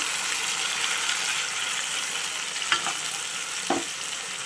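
Mixed vegetables with ginger, cumin and green chilli paste fry in hot oil and black cumin, a loud, even sizzle throughout, broken by two short clatters of a utensil near the end.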